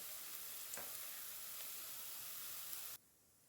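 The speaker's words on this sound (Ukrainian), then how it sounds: "я оладки викладаю на гарячу сковорідку" Steady hissing sizzle of onion pancake batter frying in a hot pan over medium heat, loud and close, cutting off abruptly near the end.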